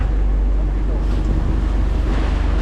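Sea waves wash and roar around a small outrigger boat on rough open water, mixed with heavy wind buffeting the microphone, a constant dense rumble throughout.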